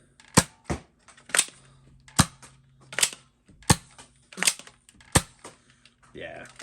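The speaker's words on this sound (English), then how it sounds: "I'm going to do one more run-through of my Prospector and see if I can get all 4 darts to fire." A Nerf Elite 2.0 Prospector blaster fires darts in sharp, snappy pops with priming clicks between shots, about eight evenly spaced bursts close by, with brief talk near the end.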